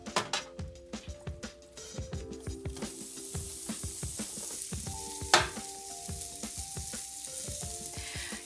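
Cabbage cooks over an open fire, giving a loud, crackling sizzle with rapid sharp pops and snaps and a steady frying hiss underneath, plus one bright crack partway through.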